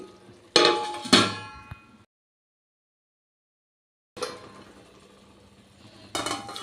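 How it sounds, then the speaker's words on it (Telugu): A metal spoon clatters against a pot of simmering sambar in a home kitchen and a lid is set down with sharp clinks, followed by a silent gap, then more faint pan handling and a final clink. "ఇలా కదుపుకొని మూత పెట్టి ఇలా ఒక ఫైవ్ మినిట్స్ వదిలేద్దాం"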